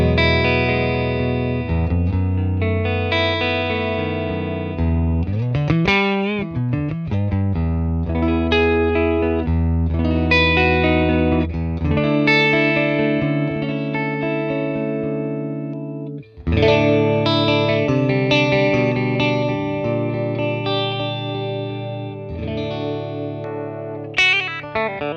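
Electric guitar on its neck pickup through a 1966 Fender Blackface Bassman capture, loud sustained chords and melodic runs ringing with a brief break midway, played alone without talk.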